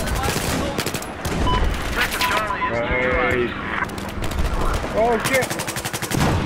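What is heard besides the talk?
suppressed M4 rifle gunfire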